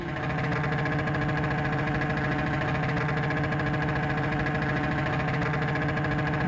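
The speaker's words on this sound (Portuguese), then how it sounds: "Acelerando forte, ó." A BMW R1200 motorcycle engine runs under hard throttle, a steady loud drone with dense low harmonics and a constant rumble lasting throughout, no voices over it.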